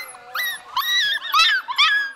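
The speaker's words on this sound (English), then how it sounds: "there's a lot of puppies here. Lots of moms, lots of puppies, lots of nursing moms. Really scared." Frightened rescued puppies and nursing mother dogs, displaced by Texas weather and newly arrived in Colorado for fostering, give a run of high-pitched whimpers and yips, close and fairly loud, with no talking.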